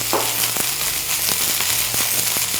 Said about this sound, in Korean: 기름이 달궈지면 양배추, 호박, 양파도 모두 넣어주세요.